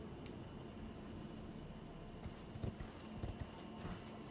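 Horse hooves galloping in Elden Ring, a rapid clip-clop beat that starts partway through and stays fairly faint under a steady noisy background.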